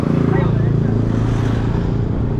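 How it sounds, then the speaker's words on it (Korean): Motorcycles pass close by on a road in Moalboal, Cebu, producing a loud, steady engine drone with a strong low hum that fills the whole stretch. "아, 오토바이가 너무 많이 다니네요"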